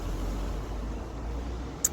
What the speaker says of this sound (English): It's a van actually making a whole heap of noise.